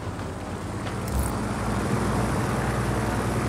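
An aircraft taking off in Just Cause 4, a broad steady engine roar with low rumble that swells slightly and holds, loud and continuous, no talking.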